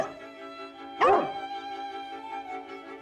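A small dog in a children's cartoon gives a single short yip over gentle background music.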